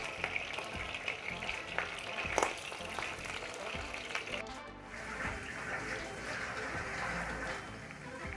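Okra pieces dropped one by one into very hot oil for crispy Punjabi bhindi sizzle and bubble steadily, a continuous close hiss with small pops and a brief clatter partway through.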